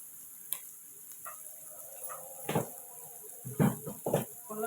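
Curry with ginger paste frying in a pan gives a faint, steady sizzle, broken by a few close scraping stirs and clinks of a spoon against the pan.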